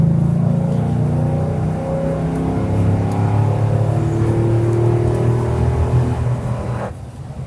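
Gas or diesel 2024 Ford Super Duty truck accelerating at full throttle while towing a trailer: a loud, sustained engine drone with rising and shifting tones over several seconds, cutting off abruptly near the end, with no talking.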